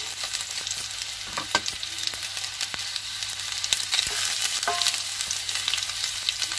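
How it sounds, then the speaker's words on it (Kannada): Okra (ladies finger) frying with onions in a pan for a sambar, a steady close sizzle with scattered pops and occasional scraping taps running throughout, no voices. "ಈಗ ನಾವು ಬೆಂಡೆಕಾಯಿನ ಹಾಕ್ತಾ ಇದ್ದೀನಿ"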